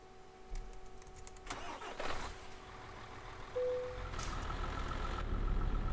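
A truck engine starting in Euro Truck Simulator 2 during a snowy Christmas winter event: a cranking start rises into a steady mid-pitched idle rumble under constant in-game ambience, with no talking.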